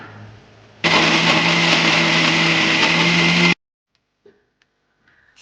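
A mixer grinder grinding a smooth paste whirs loudly and steadily for about three seconds, then cuts off abruptly, leaving near silence with a few faint clicks.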